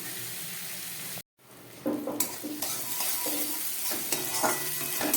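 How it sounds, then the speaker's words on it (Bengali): Spice paste for a katla fish curry with eggplant is fried and stirred in a pan, giving a steady sizzle with scraping strokes from a spoon. A brief silent gap comes early, then the frying continues with intermittent clatter. "খুব ভালো করে এখন আমি এই মশলাটাকে কষাবো।"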